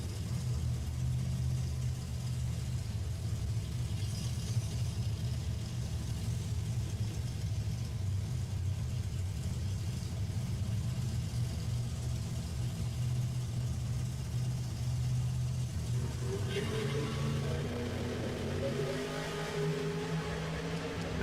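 Drag racing dragsters at a bracket race, including a 2008 Mullis chassis car, give off a steady, loud low engine rumble that carries throughout, with a rising rev and added roar near the end.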